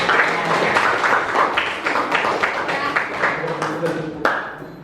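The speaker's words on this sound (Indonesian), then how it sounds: "Tepuk tangan lagi untuk." Students in a classroom clap for a classmate, a burst of quick, fairly close hand claps that thins out and ends with a few scattered claps, with a voice speaking over it.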